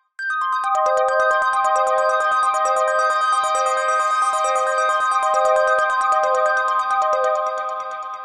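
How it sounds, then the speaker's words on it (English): A bright Fusor synthesizer plays a repeating arpeggiated pattern, its tone gradually shifting brighter and darker as the filter cutoff is modulated, loud and alone. "you'll hear the cutoff being modulated"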